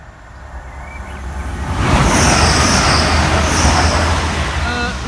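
A Great Western Railway Class 180 diesel train rushes past at a level crossing, its roar rising quickly to a loud, sustained rumble with wheel and rail noise.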